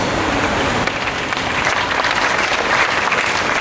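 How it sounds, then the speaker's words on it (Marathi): A crowd at a Marathi kirtan claps together, producing a loud, dense, even roar of applause that holds steady throughout without letting up. "टाळ्या वाजू नका, उद्यापासून टाळायला शिका."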